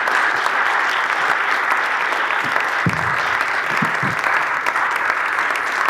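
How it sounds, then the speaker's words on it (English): An audience claps for the keynote speakers at a talk on Gandhi's global legacy, a steady even round of applause throughout with a few low thumps mixed in. "Let's give our speakers another round of applause."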